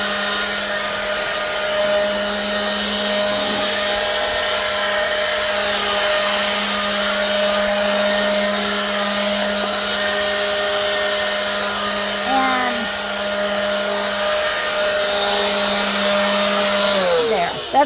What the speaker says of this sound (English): this Works blower is lightweight enough